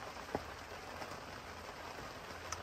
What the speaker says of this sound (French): Ce matin, première pluie depuis 4 mois et demi